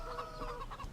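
Chickens cluck steadily at a chicken coop on a farm in the Farming Simulator 17 game, a close, continuous flock chatter with no talking.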